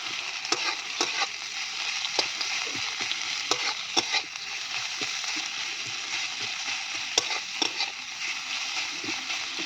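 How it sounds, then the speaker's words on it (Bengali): Onion fries in oil in a pan with a close, constant sizzle, punctuated by frequent crisp clicks and scrapes from a stirring spatula, and no voices. "আর এদিকে পেঁয়াজটা আমি ভেজে নেব ভালো করে।"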